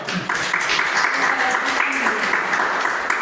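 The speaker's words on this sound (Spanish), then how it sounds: "un aplauso para el Señor" A group claps during a Jubilee 2025 catechesis gathering, steady continuous applause filling the room with a faint murmur of voices beneath it.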